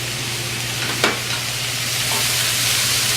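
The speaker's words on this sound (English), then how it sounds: "We're going to hit the pan with mushrooms and garlic" Mushrooms and garlic hit a hot pan, giving a steady broadband sizzle with a brief sharp clatter near the start, no talking.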